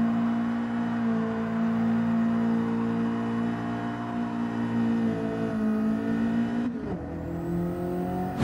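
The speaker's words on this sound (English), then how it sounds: "get back on the throttle at the right moment to continue the drift" A car engine holds a steady high rev during a throttle-controlled drift in Gran Turismo 7, droning loudly and evenly before a sudden drop and shift near the end.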